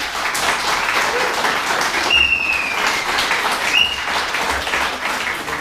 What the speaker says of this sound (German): Wir starten wieder mit Applaus.